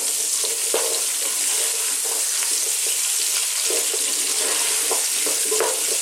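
Vegetables and potatoes fry in a pot as the base of a spicy lentil tomato soup, giving a steady, close sizzle with occasional clicks and stirring scrapes throughout.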